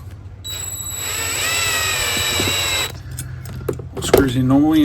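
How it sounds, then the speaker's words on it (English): A power drill runs in reverse, twisting stainless steel wire: a loud, steady motor whine that holds for about two seconds, then winds down, with a brief tonal squeal and some clatter after. "I run the drill backwards"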